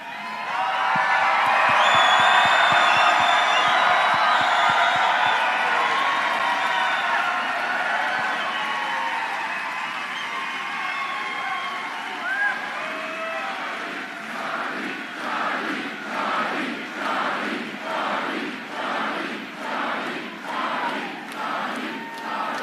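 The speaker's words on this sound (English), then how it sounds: "Let's cheer it up real loud for Charlie." A large crowd at a Turning Point political rally for Charlie Kirk in Utah cheers and yells loudly in a sustained roar. The noise then breaks into rhythmic, evenly spaced chanting and claps that carry on to the end.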